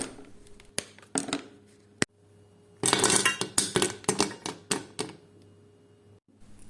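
A 100-gram bar of chocolate broken by hand into smaller pieces for double chocolate chip cookies: a few crisp separate snaps, then a dense cluster of clicking, clinking cracks, close and fairly quiet.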